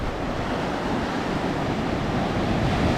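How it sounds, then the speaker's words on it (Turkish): Sea waves with a strong undertow break on a sandy beach in Adana, making a loud, unbroken roar of surf with wind buffeting the microphone. "Çok dip dalgası var."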